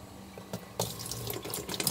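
A tap runs into a sink for washing hands, water gushing steadily and close after a brief quieter start, with splashing bursts over the flow.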